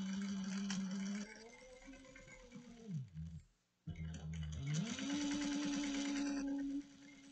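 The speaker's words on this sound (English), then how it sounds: "So we're going to top stitch this down at 1/8 of an inch." Sewing machine top stitching a cross-body sling bag at an eighth of an inch, a close steady motor whir with rapid needle chatter that pauses briefly midway, then runs again.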